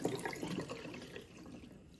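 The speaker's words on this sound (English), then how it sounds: "adding cold water to the pan." Cold water pours from a tap into a pan of just-drained soft-cooked eggs, a faint close splashing and gurgling that fades toward the end.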